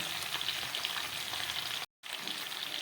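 Fish masala with dried red chilli frying in a pan on a very low flame, giving a dense, even sizzle that is broken by a brief cut before it resumes.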